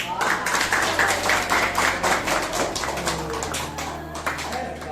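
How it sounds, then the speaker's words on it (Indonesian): A classroom group claps hands together, a brisk burst of overlapping claps for several seconds that gradually thins out, with low murmuring voices and background hum underneath. "tepuk tangan dulu"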